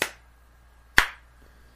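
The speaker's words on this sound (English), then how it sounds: "Just the half claps" Sparse half-hearted claps from a small crowd, three isolated sharp smacks spaced about a second apart with silence between them.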